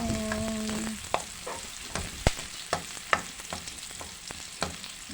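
Tomatoes sautéing with dried fish in a pan are stirred steadily, a soft continuous sizzle broken by repeated scraping clicks of the spoon against the pan, close and moderately loud with no talking.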